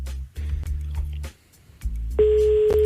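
A telephone call being placed, with low buzzing line tones broken by a short gap, then a steady electronic ringback tone rising loudly near the end, no voices.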